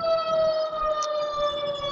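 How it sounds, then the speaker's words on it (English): A steady siren wails outside, its tone holding level and loud throughout, with a bright high harmonic stacked above the main pitch and no voices over it. "the damn siren just..."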